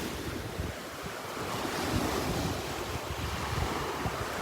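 Ocean surf rolls steadily onto a beach in North Naples, Florida, a continuous wash of breaking waves mixed with gusty wind noise on the microphone, with no voices.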